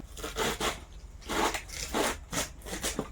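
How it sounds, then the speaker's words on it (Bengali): Cabbage being cut with a knife in a home kitchen in the Sundarbans, a run of crisp crunching slices in uneven bursts, close and fairly loud, with no voices. "আমি কিন্তু আজকে বাঁধাকপি কাটছি"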